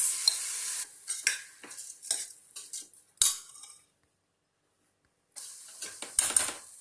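Rice goes into a pan and is stirred with a utensil, making repeated scraping, rattling strokes with a few short pauses, then a longer gap before stirring resumes.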